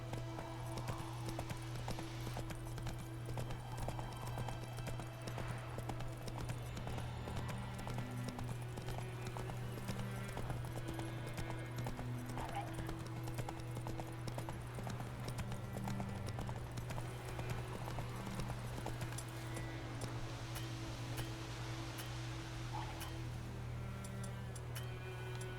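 Roach, a horse in the video game The Witcher 3, gallops with steady rhythmic clip-clop hoofbeats over a constant low in-game hum, with a faint occasional whinny and no speech.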